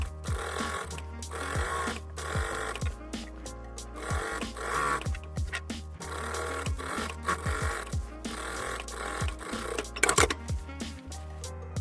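Sewing machine topstitching a woman's pajama top along the facing and shoulder seam, a steady rhythmic whirring in repeated bursts of stitching with short pauses, close and even, one sharper clack near the end.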